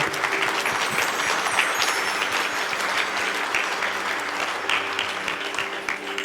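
A church congregation claps together in continuous, steady applause during a sermon, a dense even wash of many hands with no voices above it.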